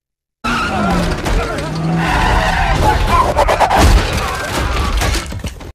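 A truck swerves and skids, its tires screeching loudly amid engine noise and a brief crash-like clatter, with voices shouting over the chaos throughout.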